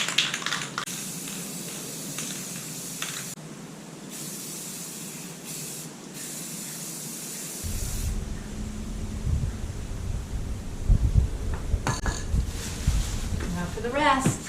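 Aerosol can spraying matte clear coat onto motorcycle plastics from a 2020 Suzuki DR650, close hissing bursts with short pauses between passes, then a busier stretch of sprays and handling noise.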